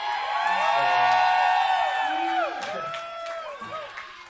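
Concert crowd at the Satyricon in Portland, Oregon, during a 1995 show, whooping and cheering loudly with high shouts and whistles that gradually thin out and fade.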